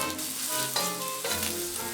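Shiitake mushrooms fry in hot oil in a pan over high heat, giving a brief, steady close-up sizzle.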